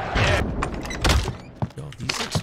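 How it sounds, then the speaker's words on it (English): Several loud booming explosions and thuds from the video game Warzone land in quick succession, mixed with gunfire-like bursts while voices talk over the action. "these explosions are so loud and they freak me out"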